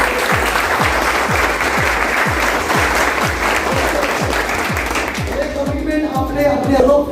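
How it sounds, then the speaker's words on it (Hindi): An audience at a motivational leadership talk bursts into loud, sustained applause, with a rhythmic beat running under it and a voice speaking over the clapping toward the end. "एक जोरदार तालियां होनी चाहिए"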